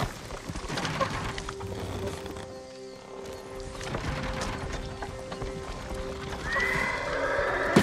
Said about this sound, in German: Folgt diesen Pferden.